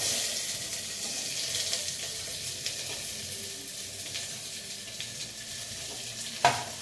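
Curry leaves and onions fry in hot oil with a steady, broad sizzle that holds through the whole stretch, plus a sharp clack or scrape near the end. No one speaks.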